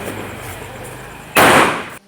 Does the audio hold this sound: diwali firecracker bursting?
yes